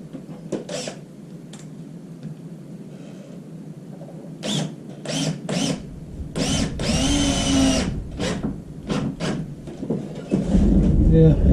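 A power drill whirs in several short bursts, then runs in one longer grinding stretch as it bores into a very wet board, with a motor hum underneath.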